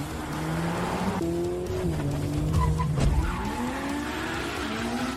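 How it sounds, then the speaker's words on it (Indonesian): Race cars speed through a corner at over 62 mph, with engines whining and tires squealing loudly as they slide through the bend, the sound swelling and passing up close, with no talk over it. "Ketiga mobil baru saja melewati tikungan itu dengan kecepatan lebih dari 62 mil per jam."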